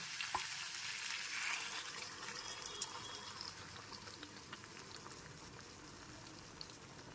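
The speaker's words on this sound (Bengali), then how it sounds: "এরপর এর মধ্যে দিয়ে দিচ্ছি 1/2 বাটি পরিমাণ গরম জল।" Hot water poured into small new potatoes sautéing in a pan for a Bengali aloo dum, giving a steady, close hiss and bubbling sizzle that holds evenly throughout with faint clinks and no voices.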